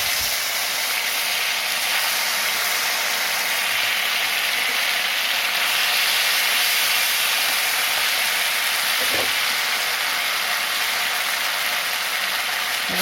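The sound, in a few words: bay leaf, dried chilli and cumin tempering in hot oil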